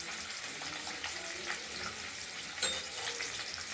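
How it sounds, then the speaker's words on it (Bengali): Paneer pieces fry lightly in a little oil, giving a steady, soft sizzle with faint background clatter and one brief sharper clink; no talking. "এগুলো আমরা একটু হালকা তেলে ভেজে নেব"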